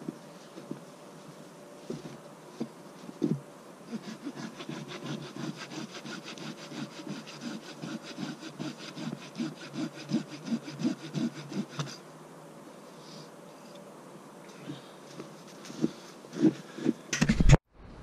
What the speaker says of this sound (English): you can cut through it and not worry about damaging your saw